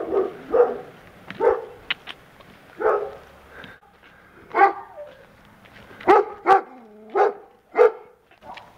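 A dog barks repeatedly, roughly nine or ten short loud yaps spread across several seconds, heard on a coastal hill walking route with wind turbines nearby; the barks come in irregular bursts with quiet gaps between them.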